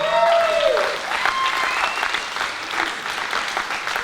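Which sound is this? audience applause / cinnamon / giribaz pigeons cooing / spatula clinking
audience applause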